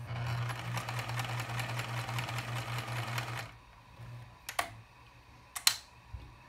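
A serviced Pfaff 209 free-arm sewing machine stitches in a rapid, steady mechanical whir for about three seconds, then stops, followed by a few isolated clicks and clunks.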